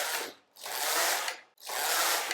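Passap Duomatic 80 knitting machine carriage sweeping across the needle bed, knitting stitches off onto waste yarn: three loud rasping, ratcheting passes with short pauses between, close by and with no voices.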